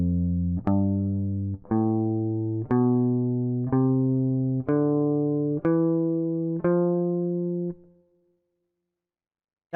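An F Lydian open scale rises on guitar, eight plucked notes at an even, unhurried pace, each ringing out and decaying before the next, ending with the last note fading into silence.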